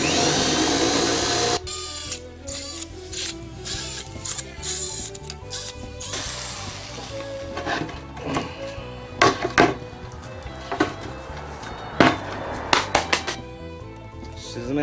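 A power drill bores holes in wood for a homemade PC desk that doubles as a kotatsu, with a sustained high whine at the start followed by shorter bursts of drilling, clicks and handling knocks close by.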